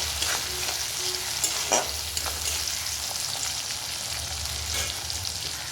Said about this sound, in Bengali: পেঁয়াজগুলো লাল লাল করে ভাজা হয়ে গেছে মোটামুটি